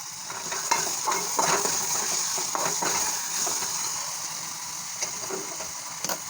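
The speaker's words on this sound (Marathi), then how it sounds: "तर ह्या ठिकाणी मी टोमॅटो ॲड करून घेते आहे" Chopped tomatoes sizzle and crackle in a hot pan of frying ginger-garlic masala while being stirred, a steady close frying hiss with irregular scraping stir strokes and no talk.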